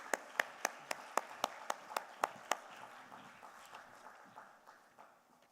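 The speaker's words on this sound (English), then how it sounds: "A huge round of applause, ladies and gentlemen." A small audience claps at a G20 finance workshop, a run of about ten sharp, evenly spaced claps at a brisk rhythm in a quiet hall, then scattered softer applause fading away.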